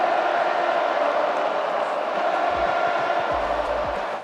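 A huge stadium crowd of over 36,000 fans at Allegiant Stadium in Las Vegas screams and roars, a dense, sustained wall of cheering noise that stays loud throughout, with low thumps breaking through near the end.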